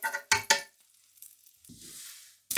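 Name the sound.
butter sizzling in frying pan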